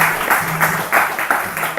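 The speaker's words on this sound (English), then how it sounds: "So please give them a big round of applause." An audience at a spiritual lecture gives a short round of applause, a dense, steady wash of many hands clapping that fills the moment without any voices.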